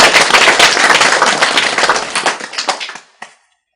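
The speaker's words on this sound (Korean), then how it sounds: "박수 쳐라!" Audience clapping at a Korean Buddhist sutra lecture, a dense burst of enthusiastic applause from a crowd that holds loud for about three seconds, then cuts off abruptly with one last stray clap.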